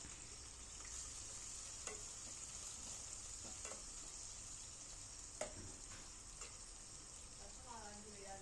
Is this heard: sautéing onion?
yes